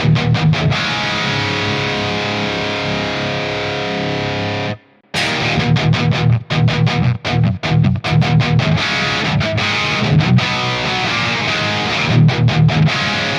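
A loud distorted electric guitar through a McRocklin PolyChromeDSP chugs a rhythm part with a reverb tail, briefly cutting out once before resuming with choppy, stopped strums.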